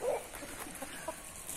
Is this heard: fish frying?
no